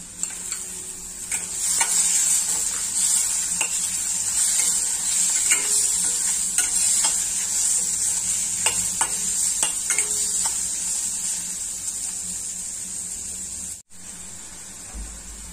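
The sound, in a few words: prawns frying in a pan for Goan prawn caldine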